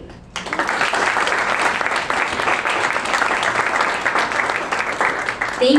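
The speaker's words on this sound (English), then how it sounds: "let's begin by giving them a big warm round of applause to our generous hosts" An audience at an evening youth entrepreneurship challenge event claps in a loud, sustained round of applause that fills the room from start to finish, with no talk over it.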